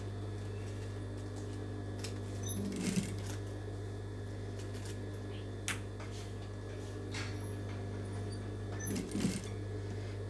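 A sewing machine runs steadily while stitching the final seam of a blouse, giving a quiet, constant motor hum with a few soft clicks and rustles of fabric.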